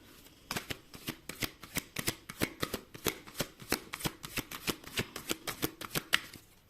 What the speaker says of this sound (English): I'm gonna pull one more oracle card